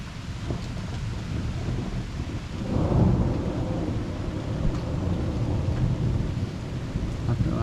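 Thunder rumbles low and long through a severe electrical storm over Liège, Belgium, swelling midway over a steady bed of rain and wind, fairly loud and distant, with no voices.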